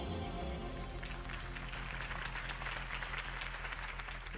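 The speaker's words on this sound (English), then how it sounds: "If only Mr. Wayne, my campaign's largest backer, could have heard that applause" Steady crowd applause in the video game Batman: The Telltale Series fills the whole stretch, a dense wash of many hands clapping at moderate volume with no break.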